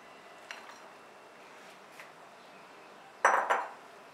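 A spoon taps lightly against a bowl a few times, then scrapes and clatters briskly as tomatoes, onions, boiled chickpeas and potatoes are stirred together for chana chaat, close up and without talk.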